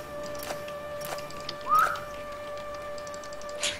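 A short rising whistle sounds in Assassin's Creed Chronicles: China, one brief clear chirp near the middle over a steady ambient game backdrop with faint tonal hum and occasional soft clicks.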